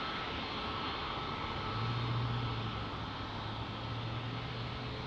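An airplane at San Diego airport, its engines a broad, continuous roar with a low droning hum that swells slightly midway, heard from a distance with no voices.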